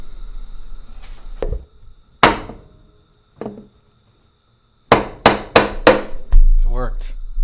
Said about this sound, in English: Hitting it with the hammer worked.